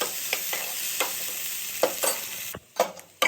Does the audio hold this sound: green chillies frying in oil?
yes